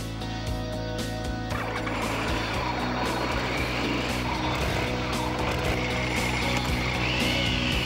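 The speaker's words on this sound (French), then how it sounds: "on est tout de suite séduit par la sonorité rauque du 3 cylindres" A Triumph three-cylinder motorcycle engine runs with a hoarse, raspy tone, a loud and steady drone that carries on without a break for the whole stretch, close by, with no talking.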